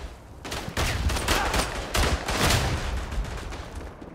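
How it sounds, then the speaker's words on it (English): Bursts of machine gun fire in the WWI shooter Verdun rattle in close, overlapping volleys with short gaps, steady and fairly loud throughout. "There's an MG covering on the back."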